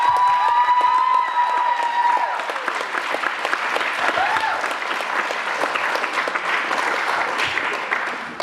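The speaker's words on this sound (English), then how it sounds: "Can we give them another round of applause?" An audience at a school production of Anne of Green Gables breaks into loud, sustained applause that fills the room, with scattered cheers mixed into the dense clapping.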